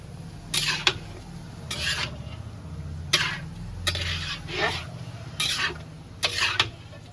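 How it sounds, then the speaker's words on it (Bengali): Chicken pieces sautéing in a pan, a steady low sizzle broken by about six bright scraping bursts as a spatula stirs the meat, close and moderately loud with no talking. "ততক্ষণ মাংসটা কষানো হয়"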